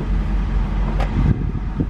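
Supercharged Fox Body Mustang engine idling and rumbling low and steady close by, with a brief rise in revs near the middle as a novice works the clutch and gas.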